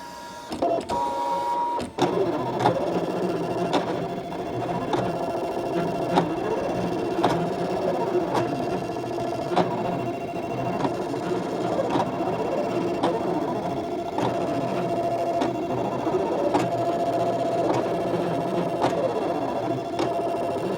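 A Brother ScanNCut machine cuts a fabric flower shape, giving a steady mechanical whir with rhythmic clicks and motor sweeps that run close and continuous after a brief start-up.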